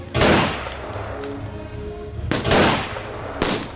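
Staged gunfire during a school sociodrama performance, with three loud, sharp bangs spaced over a few seconds amid a noisy, reverberant outdoor crowd ambience.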